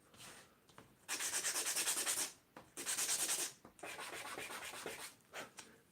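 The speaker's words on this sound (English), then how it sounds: "Don't over sand now." Sandpaper rubs back and forth on a tiny 1/12-scale beech wood box in quick, rhythmic bursts of raspy scratching, several strokes in a row separated by brief pauses, close and clear.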